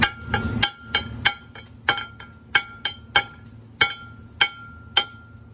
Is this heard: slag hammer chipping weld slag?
yes